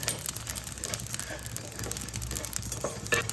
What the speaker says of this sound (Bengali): দিয়ে দিচ্ছি মৌরি জিরে পাঁচফোড়ন আর জোয়ান এগুলো আমি সব একসঙ্গে হালকা করে ভেজে নেব